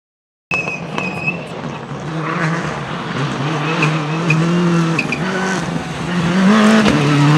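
An RC rally car on its stock electric motor kicks in with a loud, close whine that climbs in pitch, and tires scrub and skid over the surface. No one speaks.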